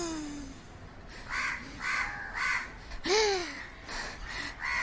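Crows caw over and over in an animated cartoon, harsh repeated calls in bursts with a swooping squawk near the middle, close and fairly loud with no talking.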